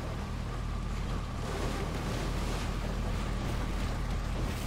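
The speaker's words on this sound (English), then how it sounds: "let's enjoy the tugboat" Steady rumbling tugboat engine mixed with rushing water and wind in a video game, a continuous dense wash of noise, close and fairly loud with no talking.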